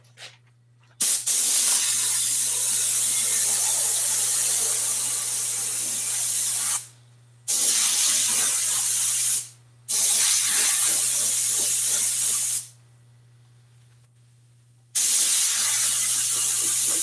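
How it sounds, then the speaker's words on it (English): An aerosol can sprays adhesive onto car seat foam in several long hissing bursts, close by, separated by short pauses, with a faint low hum underneath. "I spray it over that foam so it don't matter if I get some on there."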